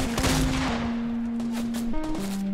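Gunfire in the video game Fortnite crackles in short bursts alongside a steady electronic game tone that shifts pitch, with sharp shot transients scattered throughout at a moderate level and no one speaking.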